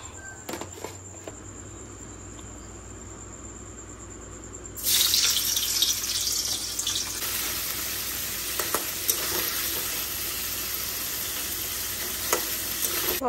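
Paneer cubes frying in a pan, a quiet hiss at first, then a loud, dense sizzle that bursts in suddenly and holds steady, with stirring scrapes and small crackles scattered through it.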